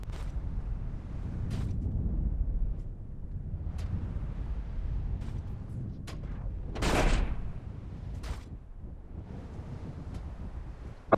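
Space battle in a video game with the Vulture firing lasers and missiles: sharp repeated zaps and bursts over a windy rushing bed, one longer blast in the middle, no voices.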